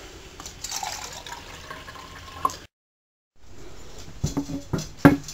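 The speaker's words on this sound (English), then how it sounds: "So you fill up your other cup about halfway with water." Water poured into a cup to fill it about halfway for a double boiler in a bannock-making setup; splashing trickle, a brief silence, then sharper close splashes and clinks.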